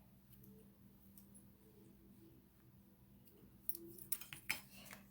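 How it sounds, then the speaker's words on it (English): Scissors trim ribbon tails on a handmade snow-themed greeting card, a quick cluster of close, crisp snips arriving near the end after a stretch of quiet room hum. "And now we can cut these tails a little bit."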